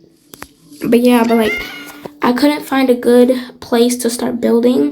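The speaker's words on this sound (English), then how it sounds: "I don't know if you guys can hear it, but this cat is just meowing." A cat meows repeatedly in insistent bursts while a person keeps talking over it.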